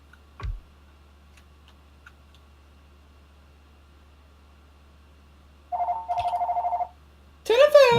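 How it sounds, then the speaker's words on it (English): A ringing bell on an old-fashioned telephone in the game Factorio, two bursts of rapid trilling separated by a short pause, loud and clear against near silence, with a brief rising tone and a couple of soft clicks around it. "Oh, that is an old school phone noise."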